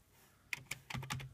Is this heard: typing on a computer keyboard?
yes